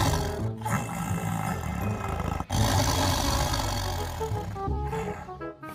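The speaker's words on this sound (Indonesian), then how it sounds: "dan yang ini harimau" A tiger's roar sounds as a loud, rough growl. It runs for several seconds, dips once partway through, and has no talk over it.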